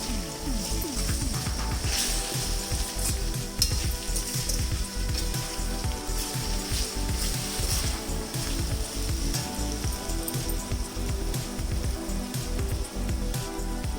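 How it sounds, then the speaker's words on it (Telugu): Ginger sizzles steadily in hot oil in a pan as it is stirred for a tomato and drumstick curry, a dense, continuous frying crackle close by with no talking. "ఈ పచ్చి వాసన పోయేంత వరకు కలుపుకోండి"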